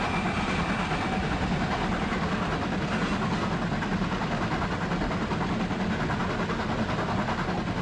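A WD steam locomotive on the Keighley & Worth Valley Railway in the OpenRails train simulator, running at about 35 mph, gives a steady, dense chuffing rumble with constant mechanical roar throughout, close and loud.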